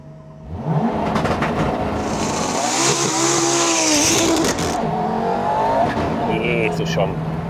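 An Audi Quattro rally A2 car roars close by, its engine revving and pulling through rising gear sweeps with loud whine and rasp, while people talk over the engine noise throughout.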